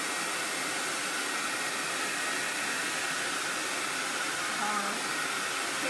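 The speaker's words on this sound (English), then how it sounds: "I'm just going to hit this with the blow dryer." A blow dryer runs continuously on a baby shower chalkboard made with Chalk Couture, giving a loud, steady whooshing hiss that fills the whole stretch without pause.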